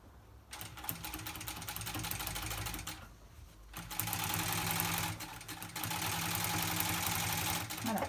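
A sewing machine stitches bias binding onto a rug in loud, rapid mechanical bursts, with two short pauses between runs and faint handling noise in the gaps.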